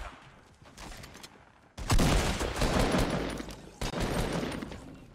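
Bursts of shotgun gunfire in a Fortnite match, loud and close, with a sharp blast at around two seconds and another near four, over a background of rattling game noise.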